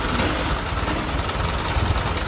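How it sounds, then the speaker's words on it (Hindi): A Kirloskar 15 kW air-cooled generator engine runs steadily nearby, giving a constant loud, even drone with a low vibrating rumble and no breaks or talk. "जनरेटर किर्लोस्कर का जनरेटर सर है, बेहतरीन जनरेटर सर"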